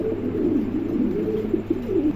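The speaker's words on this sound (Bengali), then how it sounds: "চমৎকার এক জোড়া কবুতর" A pair of large black pigeons cooing steadily at close range, soft low murmuring calls running continuously without pause and no voices over them.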